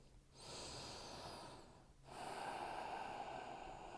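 Two deep breaths during a yoga pose, a long airy inhale and then a fuller exhale, close to the microphone in a quiet room.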